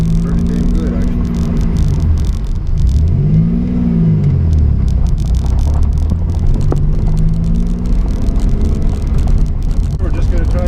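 A Chevrolet Cavalier Z24 on the road, its engine droning low with shifting revs and rising and falling pitch under steady road rumble, with no talk.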